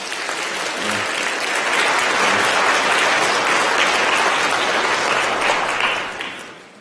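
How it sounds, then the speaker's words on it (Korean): A church congregation at a Sunday service applauds warmly to welcome a new member, the clapping swelling to a loud, dense wash, holding steady for several seconds, then fading out at the end. "여러분들 따뜻한 환영의 박수 부탁드리겠습니다."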